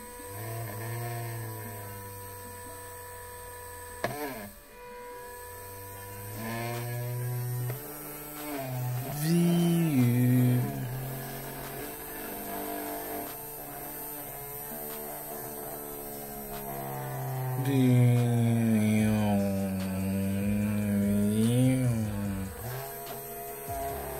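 Small DC motor driven through an Arduino H-bridge, a steady electric whine and hum whose pitch drifts up and down as the speed is changed, lasting throughout with no talk.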